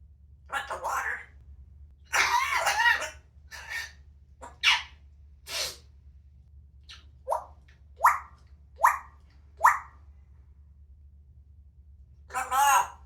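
A talking parrot mimics a cough, a string of short, sharp bursts spaced apart, with a person talking in between.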